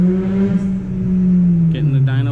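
Suzuki GSX-R1000R motorcycle engine running on a dyno, a loud close steady drone whose pitch holds then sags slightly near the end, with a voice speaking over it.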